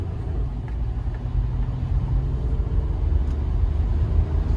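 Low, steady engine drone and road rumble from a used car bought at auction, heard from inside the cabin while driving, with no talk; faint brake scraping from the rear may sit beneath the continuous noise.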